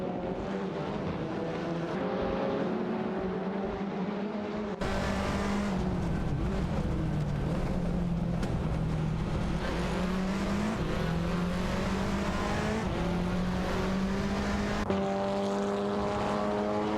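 Race cars in a racing video game, an Audi TT Cup and a Honda Civic, rev steadily with engine tones rising and falling through gear changes, moderately loud and continuous, with an abrupt cut in the middle.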